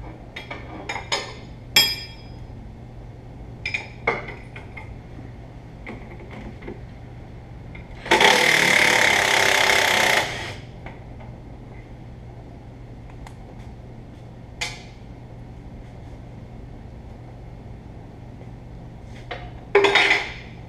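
Metal tools clink and clatter as someone works a bolt loose on a Ford F750 haul truck's shock absorber. A few sharp taps are scattered through the clip, with one longer burst of harsh rattling in the middle, all close up with no talk.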